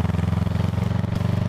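A motorcycle engine runs steadily at a low, throbbing idle with a fast, regular pulse, close and fairly loud throughout, with no voices.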